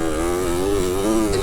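A Kawasaki KX60 two-stroke dirt bike engine holds a steady, loud, close buzzing drone with a slight waver in pitch and no break.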